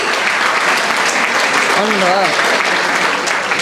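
Steady applause from the audience at a teachers' award ceremony, continuous clapping throughout, with a short spoken voice heard briefly in the middle.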